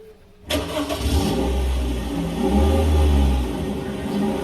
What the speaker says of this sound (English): Go ahead and put the key in the ignition. Let's start up this car.